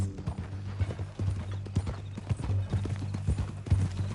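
Horse hooves clip-clop steadily in the video game Red Dead Redemption 2, an even walking rhythm up close under a low ambient hum.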